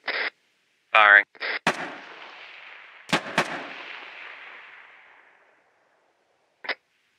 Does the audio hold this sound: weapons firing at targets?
yes